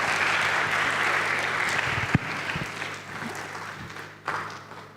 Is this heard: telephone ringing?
no